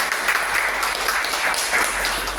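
A church congregation claps steadily as a dense, even wash of applause that fills the whole moment without a break or any clear voice.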